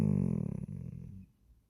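A small dog named Big lies beside someone and grumbles, a close, low, rumbling growl-like moan that pulses briefly then fades into soft breathing within about a second.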